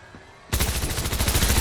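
Gunfire in Fortnite erupts suddenly after a quiet moment, a rapid, loud burst of shots that keeps going to the end.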